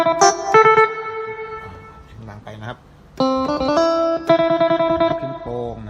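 Bright, twangy plucked notes of a Thai electric phin lute sample from a Yamaha PSR-S670 keyboard, played in short melodic bursts with pauses, slightly echoey and electric-sounding.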